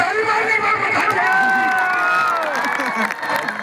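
A crowd at a wrestling bout claps and cheers loudly, with shouts and whoops rising over sustained applause before it begins to fade.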